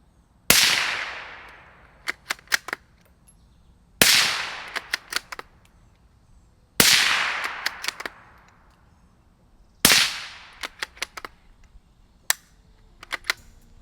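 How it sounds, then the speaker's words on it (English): Four suppressed 17 HMR rifle shots through an Echo Zulu Atom full-size suppressor, each a sharp crack with a short decay, spaced a few seconds apart, followed by fainter clicks and metallic handling taps; no talking. "Now let's shoot the Atom full size on the 17 HMR."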